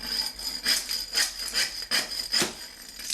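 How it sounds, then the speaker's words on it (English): A floor demolition tool called The Dozer shearing nails off at floor level, heard as a series of short, rhythmic scraping and rasping strokes about every half second, fairly close and with no talking. "Automatically shears the nail right off at the floor."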